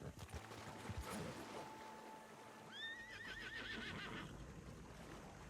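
Horse neighing in Red Dead Redemption 2, a wavering whinny rising over steady ambient game background noise, fairly close and clear, with no talk over it.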